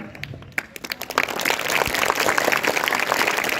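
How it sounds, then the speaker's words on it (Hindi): Audience applause for a school theater team that starts with a few scattered claps and swells within a second into full, steady clapping. "मैंने बोला था कि पूरी टीम के लिए जोरदार तालियां"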